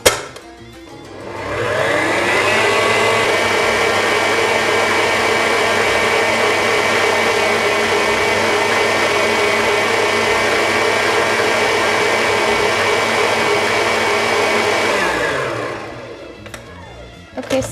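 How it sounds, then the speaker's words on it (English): An electric mixer creams butter and sugar for coconut cookies, a steady loud whir that spins up after a second or two, holds evenly for about thirteen seconds, then winds down. "Okay, so now I've creamed my sugar and butter, and now the color is white."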